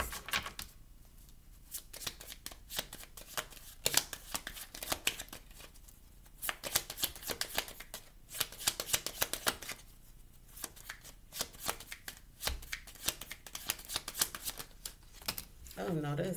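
Tarot cards shuffled at close range during a love reading, a long run of rapid riffling bursts and soft flicks, some stretches louder, with brief pauses between them.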